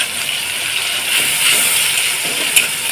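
Onion, tomato and green chilli fry in a pan, giving a loud, steady hiss that swells slightly midway and carries on without pause, with no voices over it.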